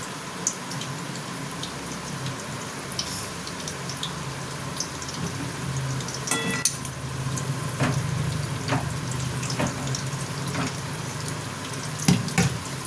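A continuous hissing sizzle of chicken frying in a pan, one side browning, steady and fairly close, with scattered crackles, a few faint utensil clinks and a louder knock near the end; nobody speaks.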